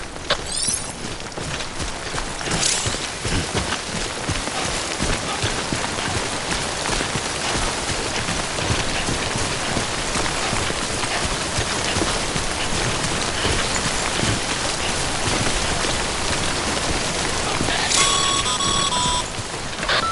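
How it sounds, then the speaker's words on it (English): Timefall rain from Death Stranding pours steadily and densely throughout, a loud continuous hiss of drops on surfaces with a faint chiming electronic tone near the start and again toward the end. "Don't stay out in the rain any longer than you have to."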